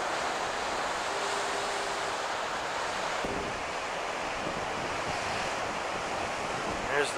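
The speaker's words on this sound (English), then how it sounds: "Pacific Ocean." Pacific Ocean surf breaking along the shore near a lighthouse at Crescent City, California, a steady broad wash of waves with wind noise, continuous and fairly loud.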